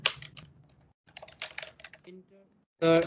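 Someone types C# code on a computer keyboard in quick, close clattering bursts with a brief pause, ending in a short voiced sound.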